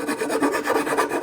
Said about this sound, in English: so I get a little round file.